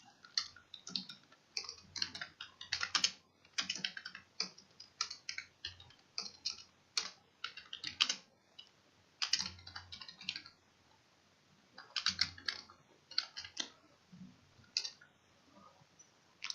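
Typing on a computer keyboard, with rapid irregular clusters of crisp close key clicks broken by short pauses, carrying on steadily for the whole stretch with no voices.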